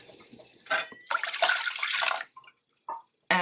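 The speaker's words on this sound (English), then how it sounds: "I'm going to add 2 cups of water" Water poured into a pot holding garlic cloves, a loud splashing gush building and sustaining for a couple of seconds, then trailing off into a few drips and small splashes.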